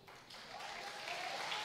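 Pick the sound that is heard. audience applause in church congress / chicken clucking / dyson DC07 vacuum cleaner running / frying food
audience applause in church congress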